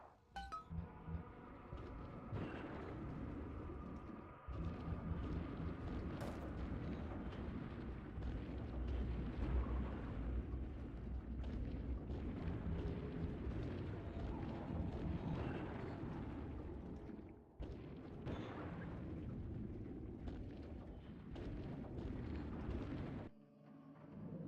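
Bombs explode in BioShock 2, a long rumbling barrage of heavy booms, with clinking glass and metal and falling debris, loud and continuous for about twenty seconds before cutting off.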